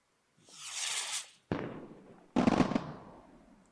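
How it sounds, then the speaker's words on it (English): Fireworks in the Roblox game Bloxburg, a whistling launch followed by two sharp crackling bursts, fairly clear with no talk over them. "So I am going to sit and wait for some fireworks."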